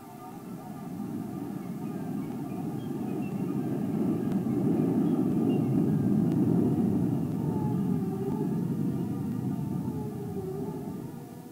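Convair B-58 Hustler bomber engines starting up on the ground, a steady loud roaring rumble that swells through the middle and eases slightly toward the end, continuous with no talk.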